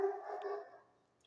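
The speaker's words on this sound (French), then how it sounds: "Désolé, c'est mon chien." A single dog bark, short and fairly faint, rings out indoors and then fades quickly into quiet.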